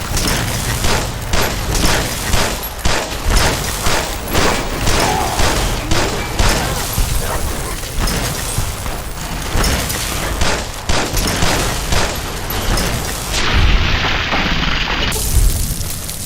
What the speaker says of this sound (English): Firing weapon.